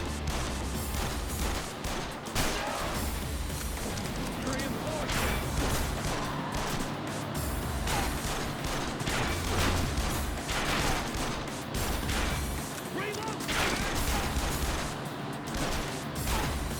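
Gunfire from the video game Yakuza 0 rattles in dense, repeated bursts over loud game sound and music, with shots and impacts packed throughout.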